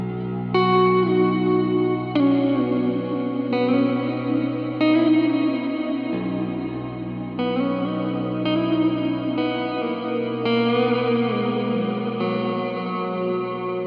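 An electric guitar through a JHS 3-Series Octave Reverb pedal plays sustained chords soaked in lush reverb and shimmering octave effects, each strum blooming into a long, washy decay.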